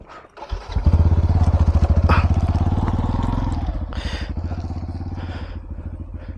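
A motorcycle engine chugs loudly and close on a rough track to a waterfall, revving up with a throbbing rhythm and then slowing to a lower idle, with brief voices near the end.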